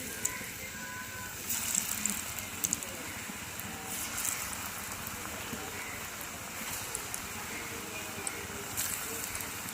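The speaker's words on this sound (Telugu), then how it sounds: "మన పకోడీలు అయితే బాగా ఫ్రై అయినాయి ఫస్ట్ అవి తీసేసుకున్నాం రెండో వాయి కూడా వేసేసుకున్నాం" Bitter gourd and onion pakodas fry in a pan of hot oil, giving a continuous close sizzle with scattered small crackles and pops throughout.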